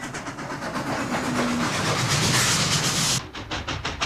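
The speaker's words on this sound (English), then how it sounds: "Here is Class J locomotive number 605 pulling the local mail train." Norfolk and Western Class J steam locomotive number 605 hauls a local mail train in 1957, giving a loud, steady rolling rumble and hiss of a passing train that cuts off abruptly near the end, leaving fainter rhythmic clatter.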